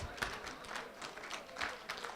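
Scattered hand claps from a small audience at a motivational interviewing talk, a few sharp, uneven claps spread over two seconds rather than a sustained round of applause.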